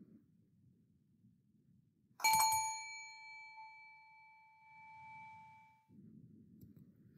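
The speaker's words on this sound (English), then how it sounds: "So I want you to focus your attention on this chime." A single chime rings out once, clear and bright, then sustains and slowly fades over several seconds. Soft low background noise is heard before and after the ring.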